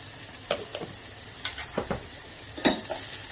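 Onion frying in a pan for Goan-style prawn curry, a soft, fairly quiet sizzle with several brief scraping stirs spaced irregularly across the clip.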